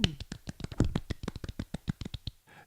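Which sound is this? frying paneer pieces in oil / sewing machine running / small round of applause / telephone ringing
small round of applause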